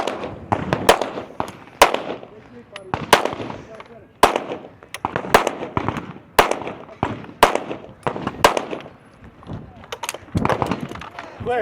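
Rapid sharp gunshots ring out at a shooting stage of an elite men's foot race in Idaho, fired in quick uneven bursts of close, loud reports with short gaps between volleys.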